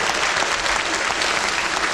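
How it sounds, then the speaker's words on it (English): Loud, close studio audience clapping during a BBC comedy show, a brief, thick burst of hands lasting under two seconds. "Round of applause for the writers."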